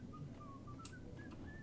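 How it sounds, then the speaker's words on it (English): A game character in Max Payne whistles a short, thin, wandering tune of brief separate notes, faint over a low steady hum of background ambience, with no talking. "Everyone just has an identical whistle."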